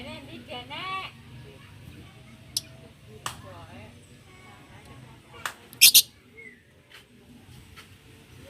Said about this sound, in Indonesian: Di aviary ini ternyata cuman berisi burung lovebird ya sahabat.